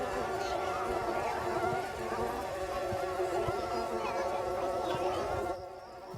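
A swarm of malaria mosquitoes in a cartoon buzzes in a dense, continuous whine of overlapping insect wings, loud and close, fading briefly at the very end.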